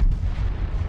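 A gun turret blasting in Star Wars Battlefront, a loud, dense burst of heavy booming fire filling the whole short moment.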